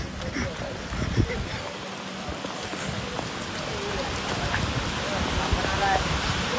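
Rain falls steadily on arrival in Ratnagiri in the Konkan, a dense, even hiss of drops on surfaces close around, with a few sharper splashes and thuds scattered through.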